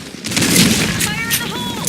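Gunfire and grenade blasts in a Sand Storm 2 battle game, a dense, loud barrage of shots and booms with a voice shouting over the chaos.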